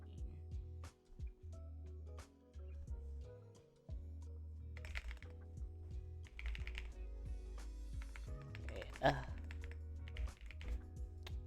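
Computer keyboard keys clatter in quick bursts and short runs at close range, and a person talks briefly between the typing.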